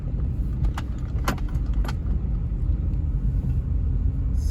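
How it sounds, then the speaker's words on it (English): Cars roll into a busy mall parking lot where vendors and U-Haul trucks are gathering, giving a steady low engine rumble with a few sharp metallic clicks on top. "A lot of cars pulling in."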